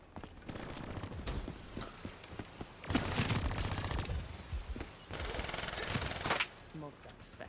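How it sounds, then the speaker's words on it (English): Automatic gunfire from a Spartan sentry turret in a video game, dense bursts of rapid shots repeating across the stretch, loud and close, with busy game effects mixed in. "Spartan sentry firing"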